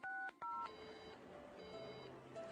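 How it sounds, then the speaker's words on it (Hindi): Mobile phone keypad tones from a Shinchan cartoon, a few quick DTMF beeps in succession as a number is dialed, loud and close, followed by softer electronic tones. "मैं अपने मोबाइल पर ही फोन करके देखता हूँ।"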